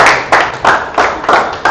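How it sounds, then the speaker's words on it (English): Audience applause at the Launchpad 2026 event, a few seconds of steady clapping from a crowd that swells in repeated loud bursts, with no talking over it. "Please, can we give a round of applause for Adesua again?"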